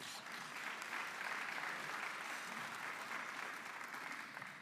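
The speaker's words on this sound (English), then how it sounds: "Let's give them a big round of applause." An audience claps steadily in sustained applause for a sponsor, Centennial Bank, at a real estate update event in Little Rock, a dense wash of many hands at moderate distance.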